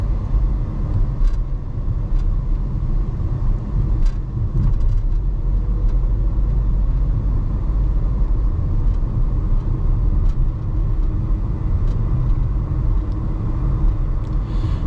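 A turbocharged 2025 Chevy Trax 1RS climbs steep hills through a residential area, heard from inside the cabin as a steady, loud engine and road rumble that stays even with no talking.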